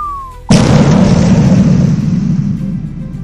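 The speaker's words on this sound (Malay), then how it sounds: "Dentuman meriam itu mengejutkan Ustaz Saleh." A homemade meriam cannon fires a single loud, close boom that hits suddenly after a brief whistling tone, then rolls off into a long, fading rumble.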